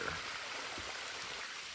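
A waterfall at Laurel Hill, the birthplace of J.E.B. Stuart, makes a steady, even rushing hiss with no breaks, heard alone at moderate distance.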